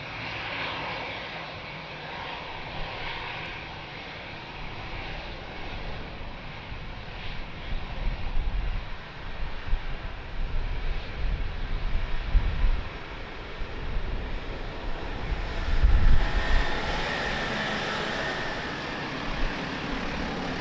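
An airliner comes in to land at Lisbon Airport with a distant jet rumble that swells into louder low roars and surges over about twenty seconds, then gradually eases.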